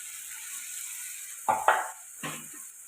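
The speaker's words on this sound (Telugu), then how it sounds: "ఇప్పుడు ఈ మసాలాలన్నీ ఎగ్స్కి బాగా పట్టేలాగా కలుపుకోండి ఒక నిమిషం పాటు ఫ్రై చేసుకుంటే మసాలాలన్నీ ఎగ్స్కి బాగా పడతాయి" Boiled eggs fry in a pan with chicken masala and coriander powder, giving a steady soft sizzle with a few louder scraping stirs of a utensil near the middle.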